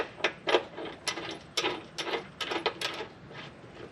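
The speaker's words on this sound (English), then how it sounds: "I'll just go ahead and tighten that down with the 19mm" A ratchet wrench with a 19mm socket tightening a RockJock anti-rock nut on the frame of a 2021+ Ford Bronco, giving short bursts of clicking strokes, about eight uneven pulls, close and fairly quiet.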